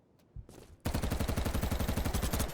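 A UMP-45 submachine gun in BattleBit fires a steady, fairly slow automatic burst of evenly spaced loud shots, preceded by a couple of faint clicks and a brief handling sound.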